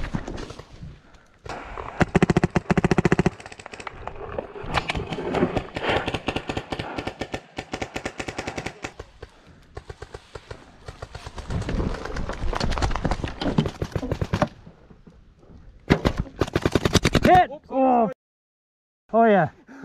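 Rapid full-auto bursts from paintball markers, including a First Strike T15, crackle in long irregular strings during an outdoor game, with players shouting and talking over the shots.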